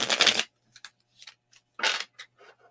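Tarot cards are shuffled by hand in quiet, papery bursts: one longer riffle, several short flicks, then a second riffle, with brief silences between them.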